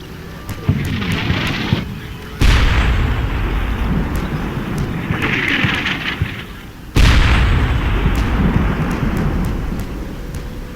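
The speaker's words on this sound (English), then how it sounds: "I'm under fire from the left flank. They have machine gun positions there." Sustained battlefield gunfire from enemy machine gun positions on a left flank in Combat Mission: Shock Force, a loud continuous rumbling barrage with two sharp heavy blasts partway through and no talk.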